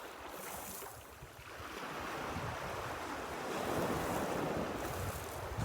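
Ocean surf washing onto a Cape Breton Island beach as the tide comes in, a steady broadband roar that swells louder toward the end, with wind buffeting the microphone and no voices.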